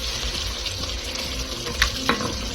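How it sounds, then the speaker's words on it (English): Half a cup of water poured into a thick cooking-cream sauce in a pan, a soft liquid splash and sizzle with a couple of brief clinks, close and alone. "So I will put half a cup of water"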